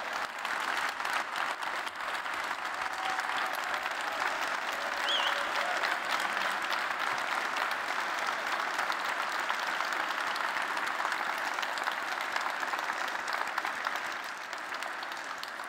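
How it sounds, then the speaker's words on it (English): A large keynote audience at a software developer conference in Berlin gives a long, loud round of applause as team members come on stage. The dense clapping holds steady for about fifteen seconds before easing off slightly. "Let's give them a big round of applause."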